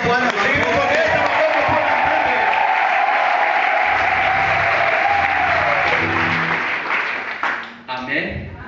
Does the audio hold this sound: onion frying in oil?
no